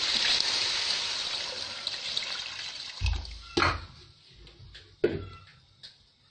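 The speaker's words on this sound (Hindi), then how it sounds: "अब इसमें मैं 1 जग पानी का शामिल करने लगी।" A jug of water pours steadily into a pot of cooking cow trotters, a loud continuous splash that tapers off, followed by a few knocks and clunks of the jug and pot.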